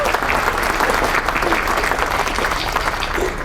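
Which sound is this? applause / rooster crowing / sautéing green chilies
applause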